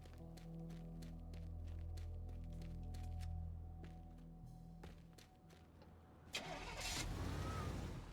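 A car in the game Teardown turns over and idles with a steady mid-pitched hum and faint clicks, then the engine roars up as it drives off with a thump near the end.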